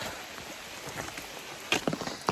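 Rain patters steadily on surfaces close by on the Long Trail near Mansfield, with a few louder drops and light knocks standing out near the end.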